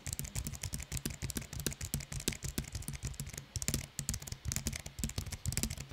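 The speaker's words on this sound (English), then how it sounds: "now we're gonna do a sound test on the keyboard to let you guys hear what this keyboard actually sounds like" Steady typing on a Logitech MX Keys keyboard recorded close up, a quick, even patter of soft, muted keystrokes running continuously with no talk.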